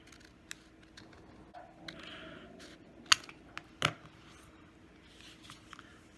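Scissors trimming the top edge of a paper page, a few sharp close snips with faint paper rustle and handling sounds between them, quiet and unhurried.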